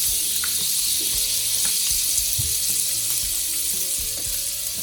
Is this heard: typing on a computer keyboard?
no